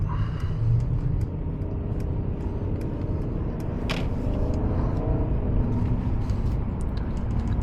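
Mercedes Maybach S580 cruising along the Pacific Coast Highway, heard as a steady low road rumble and tyre noise from inside the cabin, with one brief higher whoosh midway.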